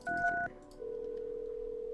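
Phone dialing tones in the video game No I'm Not Human: a quick pair of keypad beeps, then a steady, sustained ringback-style tone, clear and isolated with no voices.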